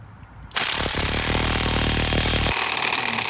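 An impact wrench tightens the axle nut on the wheel hub of a 2005 Chevy Tahoe, running as a loud, close, continuous rattling burst for about two seconds, then a compressor-like hum carries on after it.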